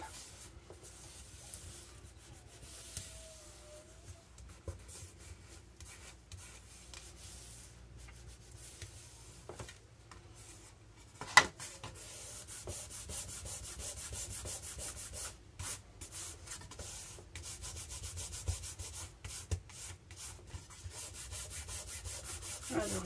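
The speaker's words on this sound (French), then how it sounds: "Alors j'enlève le surplus de la colle." Glue excess being rubbed off a handmade paper card, a stained-glass-effect card: soft, steady scraping and rubbing strokes close by, fairly quiet throughout with one sharper tap midway.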